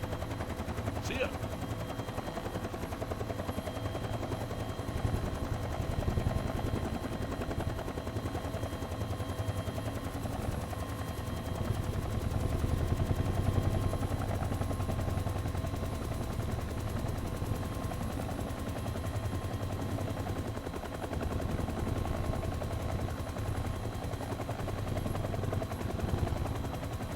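A two-bladed helicopter in flight gives a steady, fast rhythmic blade thumping and engine drone throughout, close and continuous, with a voice speaking intermittently over it.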